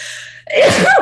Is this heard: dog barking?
no